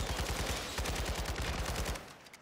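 A semi-automatic gun fires a rapid string of about fifteen close, punchy shots in Call of Duty, steady and evenly spaced, ending abruptly after two seconds.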